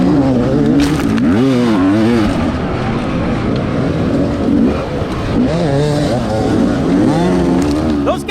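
Off-road race motorcycles at a 2021 Tough Like RORR race rev loudly and continuously, engine pitch rising and falling in repeated sweeps, close by, with commentary talk mixed in.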